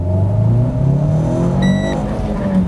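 The engine of a compact sporty car switched to Sport mode revs hard under full throttle, a loud steady droning climb in pitch heard from inside, with a brief high electronic beep partway through.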